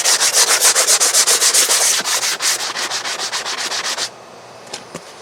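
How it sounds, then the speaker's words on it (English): An 80 grit honeycomb sander rasps back and forth over an RC airliner model build in quick, rhythmic strokes, loud and close, slowing and then stopping with a couple of light taps after. "I just take this kind of a honeycomb sander. This is about a 80 grit"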